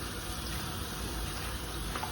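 Tap water runs steadily into a sink while soap is rinsed off hands, producing a continuous, even hiss of splashing flow at moderate level with no voices.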